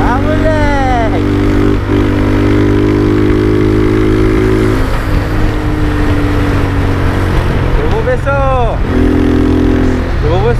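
A Yamaha XJ6F motorcycle idles with a steady low engine drone, its exhaust crackling and popping, with throttle blips near the start and again around eight seconds; someone talks over it.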